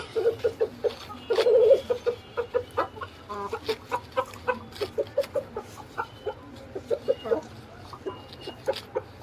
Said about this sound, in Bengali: নীলয়, তুমি একটা কাজ করো, তুমি সিল্কি মুরগি গুলাকে বের করতে হবে